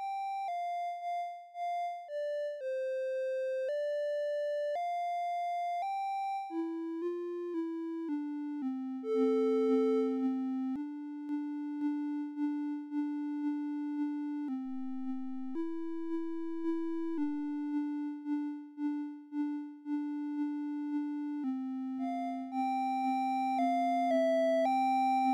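Synthesized sine-like tones generated in JavaScript with Tone JS and controlled by hand gestures, sustained pitches gliding and stepping between notes in two overlapping voices, steady and clear with no talking.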